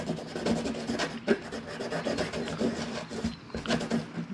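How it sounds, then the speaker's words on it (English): A Kawasaki steering damper washer has its rough edges smoothed by hand, giving a steady back-and-forth rasping rub in close, even strokes that continue without pause. "I'm just smoothing out any uneven edges that might be on there."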